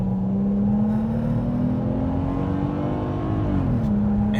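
A 2012 Dodge Charger V6 fitted with a throttle controller accelerates hard from a crawl. Heard from inside, the steady engine drone rises in pitch for several seconds, then drops at a shift, with no talk.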